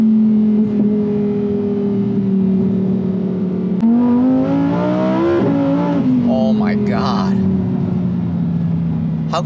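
A Lamborghini Huracan Tecnica accelerates hard, its engine note climbing steadily through the revs, dropping briefly at a gear change, then rising again, loud and close from inside, with a voice speaking near the end.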